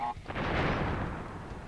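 An explosion in the Crash Bandicoot video game booms as a broad, rumbling blast that swells and slowly fades over about a second and a half, loud and close.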